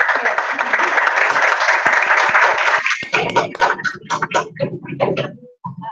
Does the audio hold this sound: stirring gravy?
no